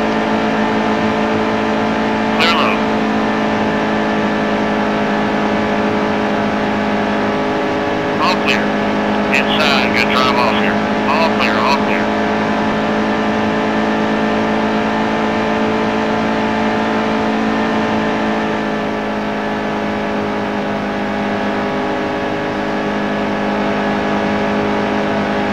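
Race car engine held at full throttle in NASCAR Heat 2 career mode, a loud steady high-pitched drone that barely changes, with brief clicks on top and people talking.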